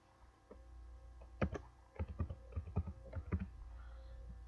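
Computer keyboard typing at a desk, a dozen or so sharp clicks in irregular short bursts over a low steady hum, close and fairly quiet with no talking.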